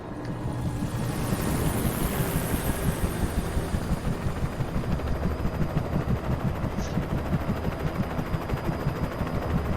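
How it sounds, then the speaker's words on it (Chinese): A helicopter in the video game Alan Wake gives a loud, continuous rotor thudding with a fast rhythmic chop and engine whine, steady throughout with no talk. "直升机都来了，"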